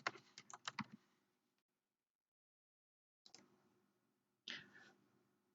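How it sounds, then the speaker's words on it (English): Quick bursts of typing on a computer keyboard, a rapid run of clacking keystrokes, then a long pause before two more short keystroke clusters, close and clear in a quiet room. "I'm going to type what I would like to have written onto my topper"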